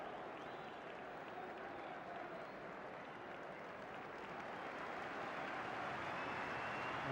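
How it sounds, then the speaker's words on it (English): Stadium crowd applauds warmly for a Norwegian striker leaving the pitch as a substitute in a Wolves versus Manchester United league match, a broad, sustained wash of clapping and crowd noise heard from a distance. "A very warm and loud round of applause for the Norwegian striker"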